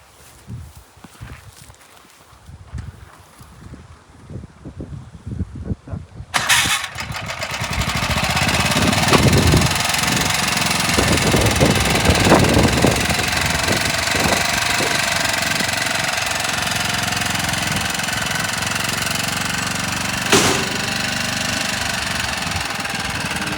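Motor Sich MB-8e walk-behind tractor with a tipper trailer, its small engine starting after a few uneven bursts and then settling into a steady, loud idle that runs on alone.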